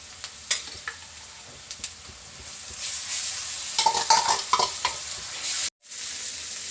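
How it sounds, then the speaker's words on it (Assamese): Spices fry in a pan after onions turn golden brown, for an Assamese jackfruit curry. A soft steady sizzle runs under intermittent stirring taps and scrapes, rising louder near the end before a brief cutoff. "এতিয়া চাওক, মোৰ মছলাটো ভালদৰে ভজা মই কৰি ল'লোঁ"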